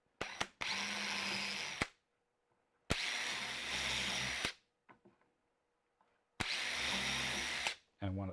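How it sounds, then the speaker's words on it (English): A power drill whirs into wood in three sustained bursts separated by pauses, close and loud, with a few clunks and brief sounds in between, in a woodworking shop. "And then I'm going to drill a hole here."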